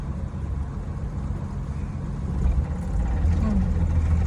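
Car engine idling, then rising in pitch and strength as the clutch is slowly let out toward half-clutch, a low steady hum that swells noticeably partway through.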